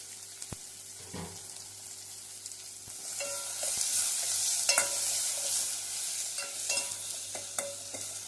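Coriander and curry leaves sauteing with tomato in a pan for egg kara kulambu, a steady frying sizzle with scattered stirring scrapes and clicks, nearby and moderately loud, no talking.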